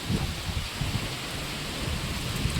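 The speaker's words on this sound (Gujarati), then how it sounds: "આજનો જે વરસાદ છે એ એકદમ ફૂલ ગતિ ને પવન પણ બહુ જોરદાર છે" Steady heavy rain and strong wind with a rushing, gusty roar over a village farm, constant and fairly loud throughout, no voices.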